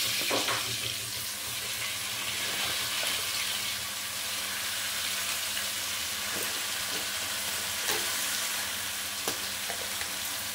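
Stalked leafy greens hit a hot frying pan and sizzle loudly and steadily, a dense close hiss with occasional faint stirring clinks, no talk.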